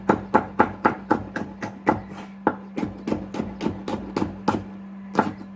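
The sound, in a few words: knife julienning bell pepper on board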